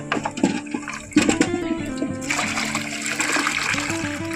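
Water splashes and sloshes loudly as a load of river-caught fish is tipped out, followed by steady gushing and trickling.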